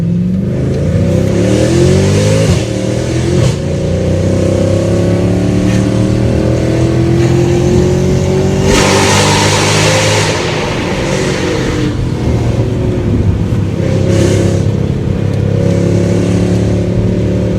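A Renntech-tuned Mercedes-Benz C63 AMG engine revs hard inside a tunnel after a downshift, a loud, continuous roar with rising and falling pitch sweeps and sharp throttle blips echoing off the walls.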